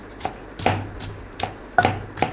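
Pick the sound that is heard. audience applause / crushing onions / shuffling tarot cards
crushing onions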